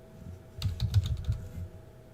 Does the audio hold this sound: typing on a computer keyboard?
yes